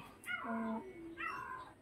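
A house cat meows twice at close range, a drawn-out wavering call followed by a second shorter one after a brief pause, with no talk over it.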